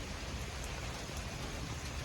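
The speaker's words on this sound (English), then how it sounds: "Here comes the rain shield." Heavy rain from a supercell severe thunderstorm falls in a dense, continuous hiss, steady and close throughout, with no talking.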